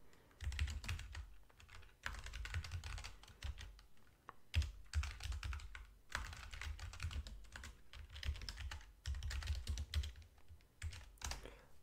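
Fingers type on a computer keyboard in quick bursts of clicking keys separated by brief pauses, close and fairly quiet, as a terminal command is entered.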